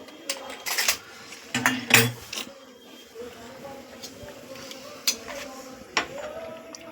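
A wok clanks onto a gas stove in a home kitchen, with several sharp metallic knocks and scrapes of cookware, close and moderately loud, followed by a low background hum.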